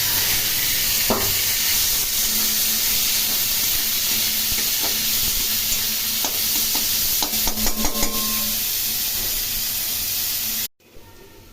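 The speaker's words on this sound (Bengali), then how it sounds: "এদিকে পেঁয়াজগুলো আমি ভেজে নিচ্ছি।" Chopped onions fry in a pan with a steady, close sizzle and hiss, broken by a few soft stirring scrapes and clinks near the end before the sound cuts out.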